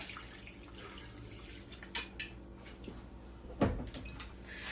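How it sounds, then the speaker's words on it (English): Water poured into a pot to cover rice, a quiet splashing trickle with a few faint clinks and one sharper knock against the pot, close by and with no talk. "So you want to make sure you got enough water that's going to cover all your rice."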